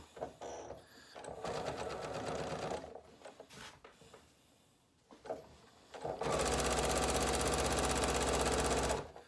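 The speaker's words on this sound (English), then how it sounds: "I'm ready to just start running it through the machine, and away we go." A sewing machine stitches a quilt border in rapid, continuous mechanical runs, loud and close, pausing briefly mid-way before a final sustained burst.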